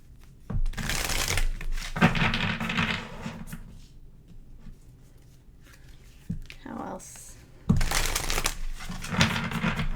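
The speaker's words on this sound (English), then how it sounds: "Let's pull some self-care cards for you." Tarot cards shuffled in quick bursts of papery riffling, loud near the start and again near the end with a quieter stretch between, while a person talks over much of it.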